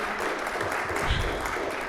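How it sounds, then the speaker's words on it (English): An audience claps for a speaker at a talk, a broad wash of applause filling the room for a couple of seconds with faint voices underneath. "Go ahead and give her a round of applause."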